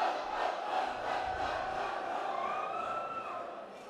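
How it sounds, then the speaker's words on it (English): Crowd cheering at a boys' varsity high school basketball game between Petaluma and Sonoma Valley, led by a student cheer leader from Trojan Live; a brief, steady wash of many voices in a gym, moderately loud and sustained. "only a brief cheer"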